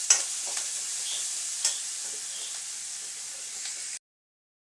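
Curry ingredients sizzle and fry in a pan, a steady bright hiss with a few stirring scrapes and small spits, close and continuous before cutting to silence.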